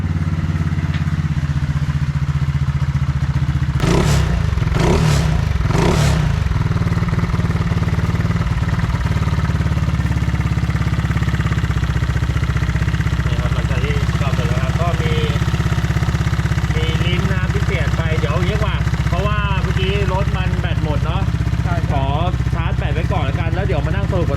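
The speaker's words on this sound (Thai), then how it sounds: "นี่นะกำลังลองเบิ้ลเครื่องกันอยู่นะครับ ก็คือสตาร์ทติดเรียบร้อยแล้ว" A tuned GPX Drone motorcycle engine idles with steady low rumble just after starting, with a few sharp revs early on; people talk over it throughout.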